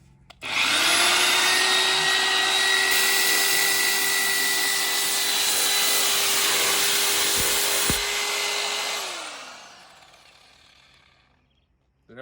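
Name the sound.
car polisher pad buffing a Corvette bumper at highest speed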